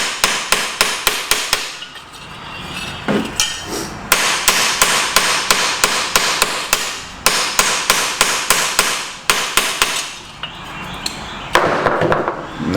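Hammer blows ring out in quick rapid bursts as a metal flange is smoothed on the back of an anvil, loud and close, with brief pauses between volleys.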